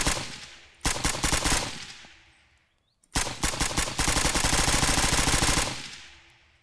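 Two loud bursts of rapid automatic gunfire from the shooter game SurrounDead, aimed at an enemy: a short volley, a brief pause, then a longer sustained stream that fades out.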